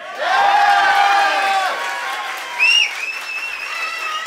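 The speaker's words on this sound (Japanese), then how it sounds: "それでは皆さん名前を言ったら大きな歓声お願いします。" A crowd at a battle tournament cheers and whoops loudly with applause underneath, voices rising in a swell that dips and then lifts again in a brief second burst.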